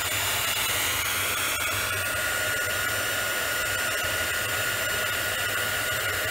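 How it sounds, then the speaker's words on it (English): A heat tool blows a steady, even whoosh of hot air for several seconds to set embossing ink on a trapped-ink craft project, loud and close with no talk. "Then you're going to heat set that as well to get this shiny."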